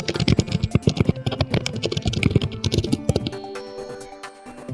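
Rapid clattering keystrokes on a computer keyboard while typing a short comment, loud and close, with dense irregular bursts that thin out near the end.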